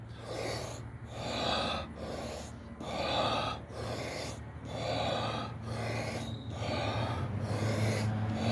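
Breathing exercise in a morning pranayama meditation: a series of deep, rhythmic inhales and exhales, each breath a soft rushing swell about every second, close and steady over a faint low hum.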